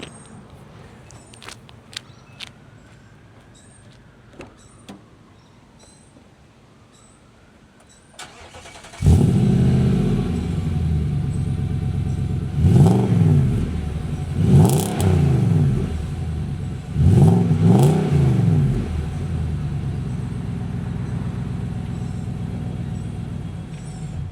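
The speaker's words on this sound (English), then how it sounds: "you want to hear the exhaust, I reckon" After some quiet clicks and handling noises, a Nissan Patrol Y62 4WD engine starts and idles with a deep exhaust rumble, then is revved hard three times.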